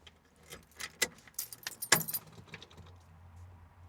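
Car keys jangle in irregular metallic bursts inside an MGB sports car, close and fairly loud, with a low engine-like hum underneath toward the end.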